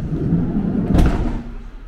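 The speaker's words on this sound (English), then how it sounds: "Got the side loading door." The sliding side loading door of a grey metallic 2020 Vauxhall Combo van moves with a single dull thud and rumble, close and fairly loud, with no talk.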